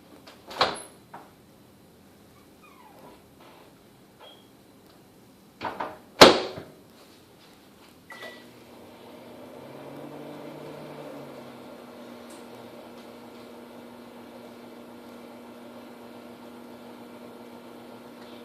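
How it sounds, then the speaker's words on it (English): Microwave oven for ramen noodles: a couple of knocks, a sharp door slam, then a beep and a steady low hum as the oven starts running, close by in a quiet kitchen. "Then you put it on the microwave in 6 on 6."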